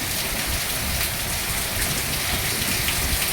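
Steady heavy rain pours down in the village of Mohabbat Para near Kutiyana, a dense, even hiss of drops striking surfaces with no voices, close and continuous throughout.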